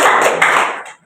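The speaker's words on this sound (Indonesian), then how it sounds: "Oke, tepuk tangan untuk Aldi." Applause from a primary-school classroom for a student, a dense burst of many hands clapping together, loud and close for about a second before trailing off.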